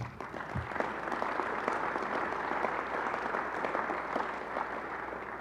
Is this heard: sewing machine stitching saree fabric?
no